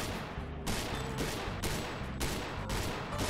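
Rapid gunshots in the Gun Club VR shooting game, four loud close sharp blasts at fairly even intervals, each trailing into a dense reverberant roar.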